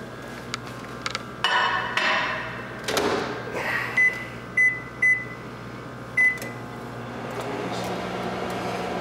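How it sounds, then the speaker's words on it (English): A microwave oven heating a plated meal wrapped in a damp towel hums steadily, with light clinks of dishware and a few short electronic beeps partway through. "you're gonna put it in the microwave for about 7 minutes"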